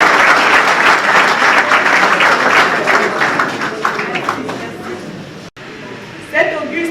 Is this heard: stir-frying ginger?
no